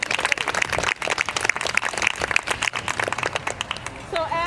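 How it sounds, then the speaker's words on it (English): Audience clapping for young summer drama camp performers at a children's theater show, a dense, steady burst of hand claps filling the room, with a voice briefly rising near the end. "let's give them a big round of applause"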